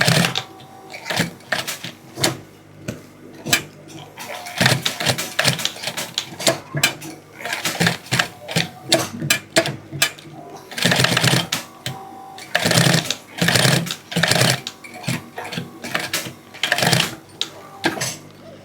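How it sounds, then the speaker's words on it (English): A sewing machine stitches along the edges of mule shoes in quick rattling bursts, pausing and restarting, close and moderately loud. "My machine is on and I'm stitching this already."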